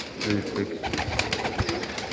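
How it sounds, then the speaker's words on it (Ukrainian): Pigeons in a dovecote giving soft, low coos, close and fairly faint, with rustling and other bird sounds in the background. "Інтересні вони, інтересні голуби"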